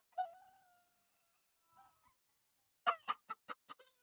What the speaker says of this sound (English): Some people love the sounds of chickens clucking away.